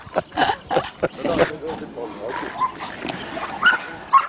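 A police dog barking and growling in repeated sharp bursts, close and agitated, with whimpering yips mixed in and voices talking over it.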